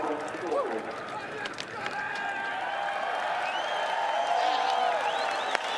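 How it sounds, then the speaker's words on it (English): A crowd cheers and applauds at a Supercars race, the Auckland 400, after a team's victory: a steady, dense wash of cheering and clapping at moderate distance, with whistles and voices mixed in throughout. "The crowd's just cheering on you, Scotty"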